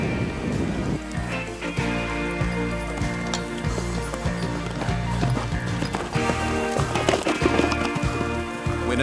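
Horses ridden over an obstacle course in a 1987 team riding event make a brisk, rhythmic clatter of hoofbeats that continues throughout over steady tonal music, with no talking.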